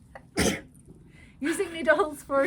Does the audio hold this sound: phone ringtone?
no